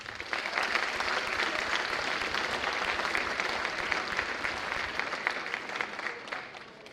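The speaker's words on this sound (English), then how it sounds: "Give yourselves a round of applause for that." Students at a high school decision day applaud their seniors, a dense, sustained round of clapping from a large crowd that holds steady for several seconds before easing slightly.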